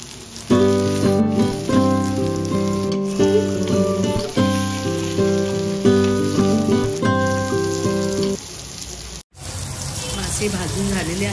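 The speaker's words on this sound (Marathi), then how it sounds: "आता मी हे 4 माशाचे तुकडे तुम्हाला भाजून दाखवते आहे," Pieces of halwa fish fry on a hot tawa griddle, giving a steady sizzle largely buried under melodic background music before it carries on alone near the end.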